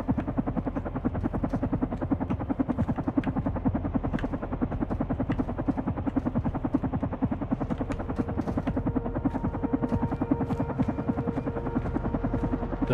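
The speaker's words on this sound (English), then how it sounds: "I can hear a helicopter." A helicopter in the video game Carrion drones continuously with rapid, even rotor chopping, loud and steady throughout with no talk.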